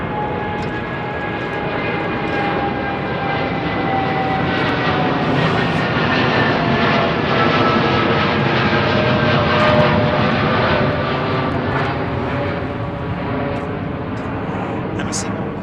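Emirates jet airliner lining up on a runway at London Heathrow, its engines giving a steady, fairly loud roar with faint falling whine tones throughout, and a voice talking over the noise.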